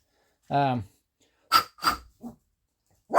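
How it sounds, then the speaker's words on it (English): Dog giving a drawn-out whimper followed by several short, sharp barks or yelps, close by and loud against an otherwise quiet room. "that's my dog"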